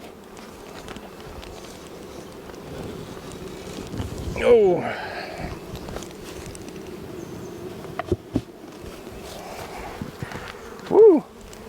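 Swarm of angry bees from a hot, defensive hive buzzes in a thick, continuous drone close around the listener, with wind noise, a few louder passes near the mic and a brief exclamation from a person.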